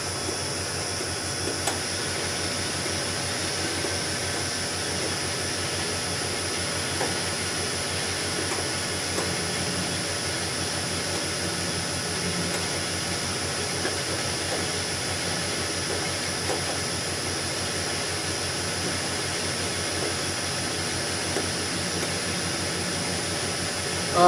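A lathe takes light five-thousandths cuts in tough metal while making an ER-32 tailstock chuck, a steady machining drone with a low chatter running unbroken and fairly quiet.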